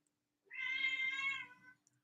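A cat gives a single clear, drawn-out meow of about a second, close and alone against a quiet background.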